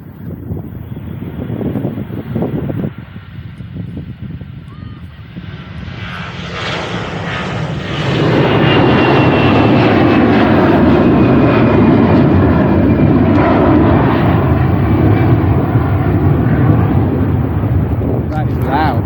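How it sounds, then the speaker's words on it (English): A jet airliner takes off from a busy airport runway, its engine roar swelling around eight seconds in and holding as a loud, broad, steady rush with some wind buffeting, heard from near the runway edge. "I can hear an airplane going off in the background."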